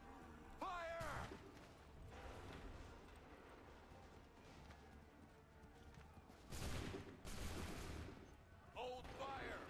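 Musket volleys in Assassin's Creed III Remastered, loud ragged bursts of gunfire and crashing echoes, with shouted voices and game sounds mixed throughout.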